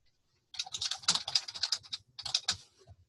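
Typing on a computer keyboard while filling in a legal first name field in an email form, a burst of quick close key clicks followed by a short pause and a second shorter run of taps.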